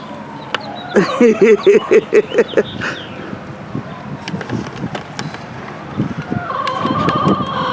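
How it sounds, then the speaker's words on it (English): Free-range chickens cluck in a quick burst of loud, rhythmic calls near the microphone, then scattered softer clucks and scratching over steady wind outdoors. "Oh my goodness, what a silly chicken."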